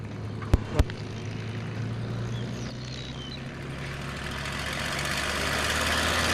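A P-51 Mustang's piston engine runs with a steady low throb, loud and close, the level rising slowly as it builds power, with two sharp clicks near the start.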